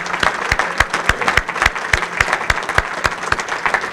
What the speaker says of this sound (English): applause for their work this evening.